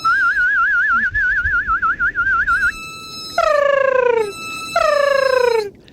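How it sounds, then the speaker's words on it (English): Beluga whales whistle underwater as picked up by a hydrophone: a warbling high whistle, then two long descending sweeping calls, loud and close with no voices. "Drop in the hydrophone, and that's when it truly sounds like there's an orchestra tuning up, and it's just constant whistling."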